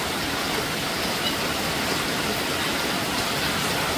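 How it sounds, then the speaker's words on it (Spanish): Heavy rain pours down steadily in El Salvador, a dense, even roar of hissing water that fills the whole stretch without a break or any talking. "Es como está lloviendo."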